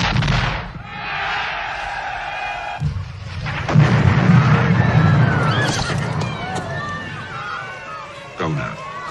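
A gunfire volley in a desert war film, loud bursts and booming reports mixed with horses neighing and hooves clattering, a dense battle din with shouting voices.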